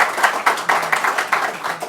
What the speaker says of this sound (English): So I think that deserves some applause for